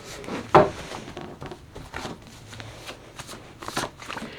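A deck of playing cards being shuffled, with one sharp riffle burst early on followed by softer rustling and a second brief flutter near the end, close and fairly quiet with no talking.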